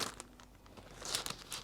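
Parchment paper is handled beside a Monument Grills tabletop griddle, with quiet, close crinkles and small tearing crackles in short uneven bursts.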